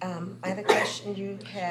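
One short, sharp sneeze bursts out midway through a person speaking indoors at a public meeting, close and slightly louder than the voice around it.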